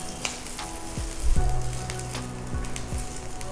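Curry leaves fry for chutney in hot oil, giving a steady, close sizzle with a few faint clinks and pops and no voices.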